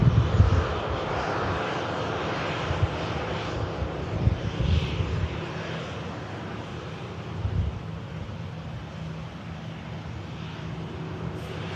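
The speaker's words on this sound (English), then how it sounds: "In from Paphos, 4-hour, 43-minute flight for this Tui aircraft." A TUI passenger jet arriving from Paphos after a long flight rumbles steadily at moderate distance, a broad engine roar with wind buffeting the microphone, slowly fading over several seconds.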